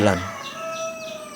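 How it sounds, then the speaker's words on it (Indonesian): Chick peeping from inside its egg while hatching, a short loud call at the start followed by repeated thin chirps over a quiet background. "Ternyata yang teriak-teriak itu masih di dalam telur, sebagaimana yang kita saksikan saat ini."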